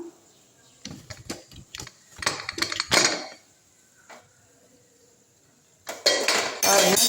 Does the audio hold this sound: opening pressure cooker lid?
yes